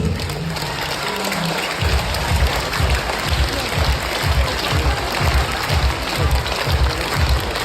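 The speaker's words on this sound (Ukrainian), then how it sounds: "Дякуємо за оплески." Concert audience applause during a shelling-interrupted show, dense sustained clapping that settles into a steady rhythmic unison beat, loud and close throughout.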